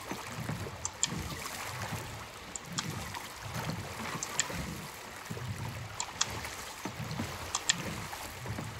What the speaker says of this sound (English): this is the harpoon dinghy